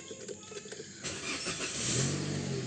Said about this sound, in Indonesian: Nah itu menyala teman-teman kalau kita nyalakan mobil seperti itu.